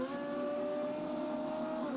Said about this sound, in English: Revs come up.